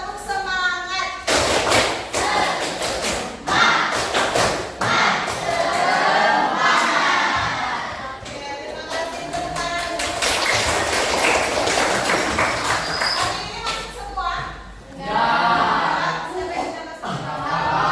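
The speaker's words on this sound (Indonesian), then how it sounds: "Sebelum MBG kita tepuk semangat dulu." A class of students does a rhythmic spirit clap, with bursts of patterned clapping and thumps alongside chanting and raised group voices, loud and close.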